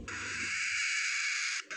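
A young parrot gives one hoarse, raspy, hissing call lasting about a second and a half, close and loud, with nothing else around it.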